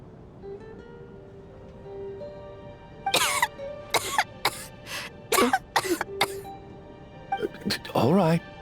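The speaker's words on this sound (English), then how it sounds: "How long have you had that cough, Tonya?" A series of sharp, close coughs from Tonya, a character in the video game Genshin Impact, comes in irregular bursts of about eight hacks after a stretch of quiet ambience, with a raspy throat sound at the end.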